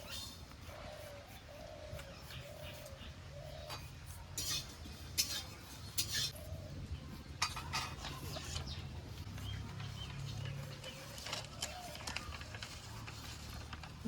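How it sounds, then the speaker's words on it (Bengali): A spoon scrapes and clinks against a hot dry pan in irregular strokes as cumin seeds are dry-roasted, over a low background hum. "কড়াই গরম হয়ে গেছে এবার আমি কাঠখোলায় জিরেগুলো ভেজে নেবো"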